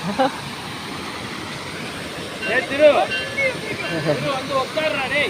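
A steady roar of water rushing at Kodiveri dam, Sathyamangalam, fills the background while several people talk and call out over it nearby.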